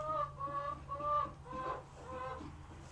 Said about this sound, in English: Why do you insist on coming in here and eating all the cat food? That is weird. You're a weird chicken.